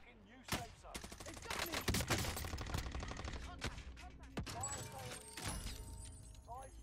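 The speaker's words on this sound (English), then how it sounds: "He's just spamming a fucking car 98." Rapid bursts of rifle gunfire in the Warzone video game, including Kar98 shots, crack repeatedly and loudly throughout, layered with other game effects and a voice talking over them.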